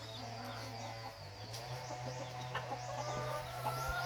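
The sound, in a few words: chickens clucking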